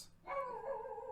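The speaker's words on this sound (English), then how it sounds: "dog bark." A single dog bark or yelp with a harmonic, slightly descending tone, heard close and alone for about a second.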